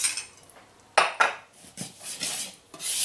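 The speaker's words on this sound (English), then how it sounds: "Just combine with your whisk." Ground ginger and mixed spice whisked together in a bowl for a gingerbread house, a few quick metallic clinks and scrapes in short bursts, close and fairly loud, no voices.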